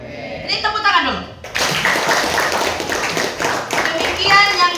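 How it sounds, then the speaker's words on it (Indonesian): Students at a junior high school outreach session clap their hands together, a dense mixed patter after a brief stretch of children's voices, with kids' chatter continuing under the clapping. "Jadi tepuk tangan dulu."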